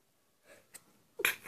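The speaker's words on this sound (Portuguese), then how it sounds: "Desculpa, galera, espirrei" A single person's sneeze, preceded by a short intake of breath, then a sharp, close burst ending with a faint exhale.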